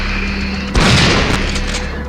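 A single booming gunshot in Resident Evil 3, a sharp loud blast cutting through a steady game hum and trailing off in a brief rumble.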